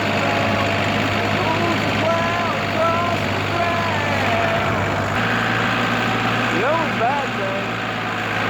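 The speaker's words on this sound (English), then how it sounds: "it's about everything this little tractor's got to pull it" A small tractor engine drones steadily and loudly under load while pulling a 48-inch mower, with a person talking over the continuous mechanical rumble.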